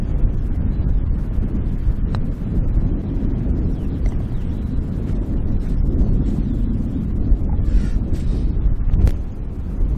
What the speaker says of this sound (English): This describes adequately how much wind there is.